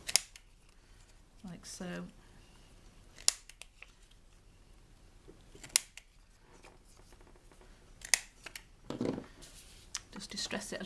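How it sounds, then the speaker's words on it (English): Scissors snip the corners off small paper craft pieces in a few sharp, separate cuts spread across the stretch, close and fairly quiet, with brief soft talk in between. "we'll just trim off the corners"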